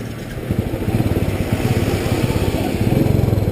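A 2019 Royal Enfield Classic 500 base model, carbureted with a choke, runs close by with a loud, even single-cylinder thump that holds steady throughout.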